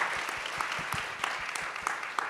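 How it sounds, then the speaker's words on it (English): A conference audience applauds its panelists at the close of an environmental forum session, a steady, even wash of many hands clapping throughout with no voices on top. "Please join me in giving our panelists a round of applause"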